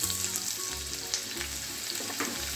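Chopped garlic and ginger fry in hot oil for vegetable fried rice, a steady close sizzle with a few light crackles and spoon clinks along the way.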